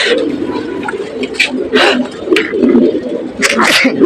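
Pigeons coo in low, throaty, repeated calls close by, mixed with some wing and body rustling and a few sharper sounds, with a person talking over them.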